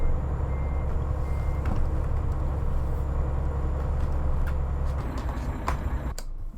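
In American Truck Simulator, a Mack Pinnacle truck idles with a steady low engine drone while an alarm sounds a rapid run of repeating beeps over it, close and continuous, before the drone drops away at the end.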